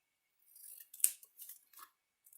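Scissors snipping through paper to trim journal tags, a few crisp cuts close up and alone in a quiet room.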